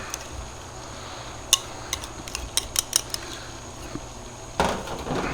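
Blue cheese dressing being mixed into smoked cabbage slaw, heard as scattered light clicks and taps of utensils in a bowl over quiet room hiss, ending in a louder rustling toss of the slaw, close up with no talking.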